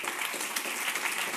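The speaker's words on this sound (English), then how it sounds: "she deserves another round of applause." An audience at an accelerator demo day applauds in a steady, even burst of clapping, moderately loud and unbroken throughout.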